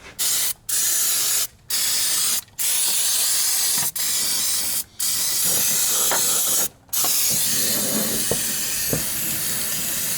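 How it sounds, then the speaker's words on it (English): Brake cleaner sprays onto car wiring and ground wires in a loud, steady hiss. The spray pauses briefly several times over about ten seconds, and no one speaks. "Let's give this a brake clean bath."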